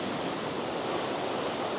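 Middle Creek, swollen into a river-like torrent after heavy rain at the foot of Signal Mountain, rushes in a steady, dense roar of broadband water noise with no pauses, loud and close, with no voices.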